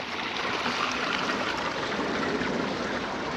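Stream water rushing through eroded rock channels on its way downstream toward a lake, a steady broadband wash that is close and continuous with no voices.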